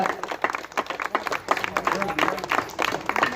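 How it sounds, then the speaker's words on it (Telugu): Many people at a Rajahmundry press club Karthika picnic gathering clap steadily in a thick, busy burst of applause, loud and near, with a voice talking over it. "గట్టిగా క్లాప్స్ చేస్తానని చెప్పండి గట్టిగా ఇంకొంచెం గట్టిగా కొట్టండి ఇంకా గట్టిగా"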